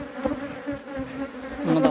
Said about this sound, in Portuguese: A maravilha da abelha silvestre, viu?